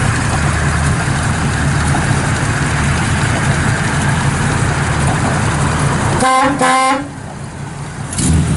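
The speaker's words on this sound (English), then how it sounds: "That's a hell of a horn." A loud car horn on a 1965 Chevrolet Impala convertible blasts twice in quick succession over a steady dual-exhaust idling engine rumble, then the engine keeps running alone.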